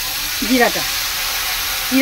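Cumin seeds and chilli sizzle in hot oil with a steady, hissing crackle, while a voice speaks briefly over it.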